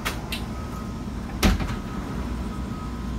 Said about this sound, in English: I want to show you what this back sliding glass door does